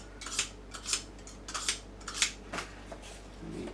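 Knife sharpened on a steel or stone while making a Batsuit armour piece, a quiet series of about eight scraping strokes in a steady rhythm, close and faint over a low hum.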